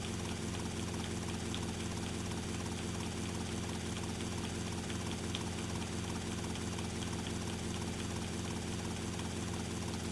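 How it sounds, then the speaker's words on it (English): Helicopter engine in the video game GTA Vice City, a steady, dense idling whir with a continuous rotor drone that holds at an even level throughout, with no talk. "Get to the chopper!"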